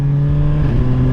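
A 2022 Suzuki GSX-R1000R motorcycle engine runs close and loud with a steady, deep droning hum that holds an even pitch for about a second.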